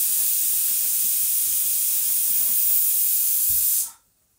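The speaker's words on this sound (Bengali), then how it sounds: "আমি এখানে 6 থেকে 7টা পকোড়া এর মধ্যে দিয়ে দেবো" Six or seven cabbage pakoras in hot oil produce a loud, continuous, close frying hiss that holds steady and then cuts off abruptly near the end, with no talking.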